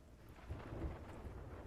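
Low rumbling thunder rolls through a stormy sea in Sea of Thieves, a soft murmur of rain and wind beneath a brief deeper boom.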